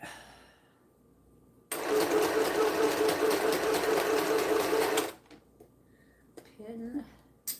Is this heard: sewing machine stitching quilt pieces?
yes